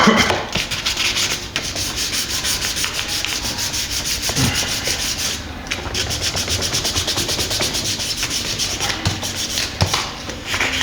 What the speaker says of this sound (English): sanding is not my favourite part of any job